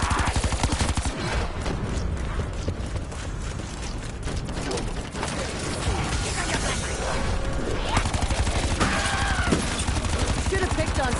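Rapid gunfire in Call of Duty Black Ops 4 Zombies, dense bursts and mechanical weapon clatter filling the whole stretch, loud and continuous with brief gaps between volleys.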